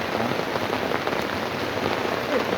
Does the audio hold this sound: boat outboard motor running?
no